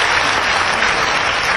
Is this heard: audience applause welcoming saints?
yes